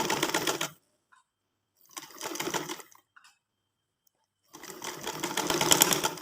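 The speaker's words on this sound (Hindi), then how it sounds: "इस तरह से इसके ऊपर जो है वो आराम आराम से सिलाई लगाते जाएंगे।" A sewing machine stitches pintucks on trousers in three close, loud bursts of rapid mechanical chatter separated by pauses of near silence, with no talking.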